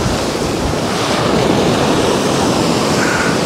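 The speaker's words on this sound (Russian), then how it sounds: "Какая волничка сегодня. Смотрите, как она разрушается." Sea waves breaking on the shore at Anapa, a loud continuous wash of surf mixed with heavy wind noise, close and unbroken with no talk.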